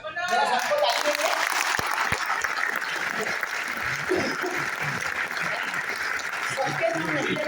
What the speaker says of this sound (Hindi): जरा सबको ताली दीजिए